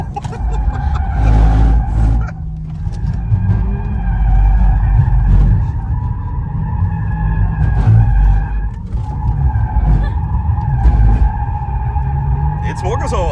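An all-wheel-drive Audi RS5 drifts sideways, its tires skidding and squealing in long sustained wails over a loud engine roar, close and intense, while voices talk over it.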